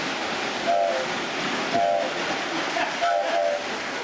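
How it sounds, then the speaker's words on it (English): A model train whistle sounds three times in short, clear tooting bursts over a low rumbling background. "It's a whistle."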